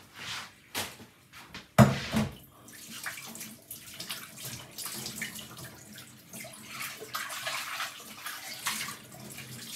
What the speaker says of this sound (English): So you have to wash it very, very good.